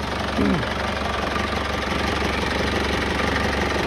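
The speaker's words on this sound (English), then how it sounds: "Excuse the noisy diesel engine." A noisy diesel engine runs in a Foton Tunland pickup with a failed pump and engine light on, a loud, steady knocking idle that fills the whole clip close to the microphone.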